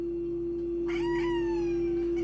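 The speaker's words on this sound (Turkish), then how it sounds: "Konuşan bir kediye sahibim." A pet cat gives one drawn-out, falling meow, close and clear over a steady electrical hum.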